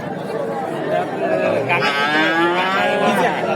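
A calf lows loudly and up close at a rural cattle market, one drawn-out moo that rises and wavers over a steady murmur of crowd chatter and voices in the background.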